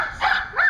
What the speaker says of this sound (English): The dog will stop barking quite so much.